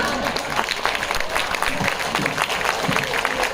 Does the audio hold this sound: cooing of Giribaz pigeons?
no